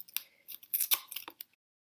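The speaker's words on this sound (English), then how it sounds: "they're cutting with this part of the scissors" Scissors snip through paper for a collage in a few quick, crisp cuts, close and fairly quiet, with a short crunching rasp to each cut and no voices.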